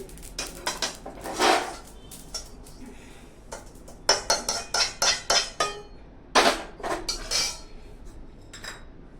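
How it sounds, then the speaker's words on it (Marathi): Roasted poppy seeds being scraped from a pan onto a plate, giving a string of sharp metallic clinks and scrapes in quick irregular bursts, close and fairly loud, with no talking. "ही पण आपण काढून घेऊया एका ताटलीमध्ये"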